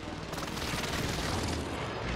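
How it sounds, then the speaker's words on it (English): Precision airstrike in Call of Duty Warzone on Fortune's Keep: a dense, continuous rumble of heavy explosions rolls on without pause, loud and booming throughout. "Allied precision airstrike incoming."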